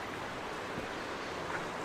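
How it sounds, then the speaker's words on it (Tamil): Fast-flowing river water at Mekedatu rushes past in a steady, dense roar with no breaks or voices. "தண்ணி ஆனால் வேகப்பட்ட தண்ணி கைஸ் ஓடுதுப்பா."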